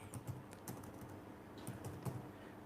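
C++ code being typed on a computer keyboard, a quick irregular run of soft key clicks with a few louder taps, close and quiet, no speech.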